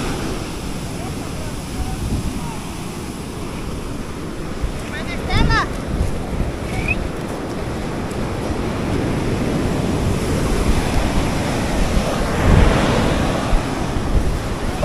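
Ocean waves at a golden sand beach at Los Almendros, Acajutla, Sonsonate, El Salvador, recorded up close: continuous rushing surf with wind buffeting the microphone and a swell of breaking water near the end.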